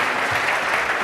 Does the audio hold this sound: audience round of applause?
yes